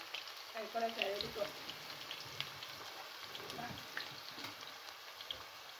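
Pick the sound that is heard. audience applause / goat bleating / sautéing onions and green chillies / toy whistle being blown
sautéing onions and green chillies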